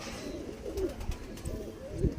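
Pakistani Kamagar pigeons cooing in soft, low, rolling phrases that repeat through the clip, close by with a faint background hiss and no talk.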